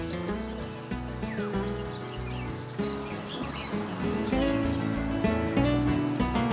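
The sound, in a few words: songbirds singing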